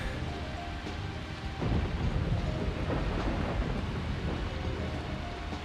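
Stormy weather in the video game Deadly Premonition: steady heavy rain hiss with a deep rumble of thunder rolling in and sustaining, loud and full, no talking.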